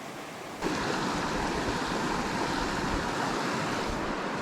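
Steady broadband rush of river water flowing in a trout stream in Washington in autumn, close and continuous, rising in level after a brief quieter start and holding unbroken with no voices.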